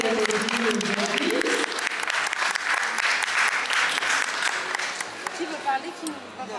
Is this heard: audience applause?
yes